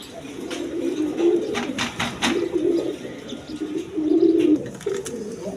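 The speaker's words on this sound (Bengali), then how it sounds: "এখানে এক পেয়ার সিলভার কবুতর আছে" Pigeons, including a pair of silver pigeons, coo loudly and close by in soft repeated rolling phrases, joined by a few brief flutters and clicks.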